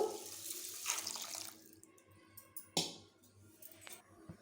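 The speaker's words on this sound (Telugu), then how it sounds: "ఇందులో ఈ మరిగించిన ఈ వాటర్ ఉన్నాయి వాటర్ని ఇందులో వేసుకుందాం ఇప్పుడు" Boiled water poured onto roasted vermicelli in a pan, a short rushing splash at the start that fades, followed by a brief second splash, close and moderately loud with no talking.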